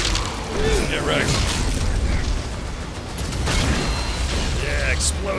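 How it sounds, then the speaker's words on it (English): Explosions in the video game DOOM: The Dark Ages: heavy, overlapping booms and bursts over a continuous low rumble and mechanical clatter, loud and dense throughout with hardly a pause. "Yeah, explosions, loud noises, Doom."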